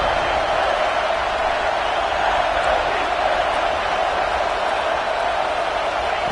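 Crowd in a video-game football stadium roars on a third-down play, a steady broadband cheer holding at one level from start to finish with no break.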